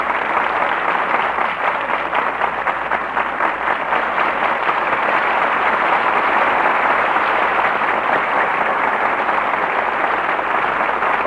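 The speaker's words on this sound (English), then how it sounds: "Well-deserved applause for our stars who have made the suspects so exciting an experience." A broadcast theater audience applauds the stars of a 1945 radio drama, a broad, steady wash of clapping from many hands that holds evenly for about eleven seconds with no voices over it.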